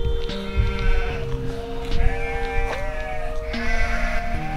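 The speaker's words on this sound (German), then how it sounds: "Guck mal, die Schafe da unten." Several sheep bleat repeatedly on the banks of the Ruhr, overlapping wavering calls, some close and loud, others farther off, over a faint outdoor background.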